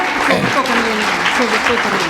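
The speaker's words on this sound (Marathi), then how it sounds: "या वा जोरात टाळ्या" Loud, dense applause from a crowd at a jewellers' public event in Pandharpur, continuous clapping held at a steady level, with a voice coming through over it.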